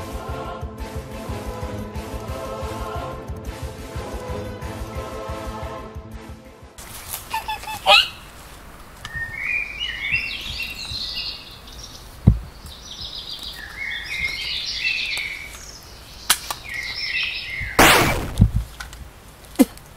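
Birds call in shrill, repeated bursts after a droning musical passage, some honk-like and fowl-like, set against a faint background with occasional sharp knocks.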